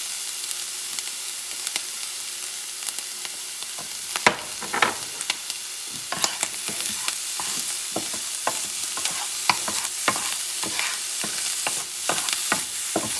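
Ham sizzles and crackles steadily in a frying pan for a wild boar and pork hash, with frequent scraping stirs and sharp pops over a continuous hiss.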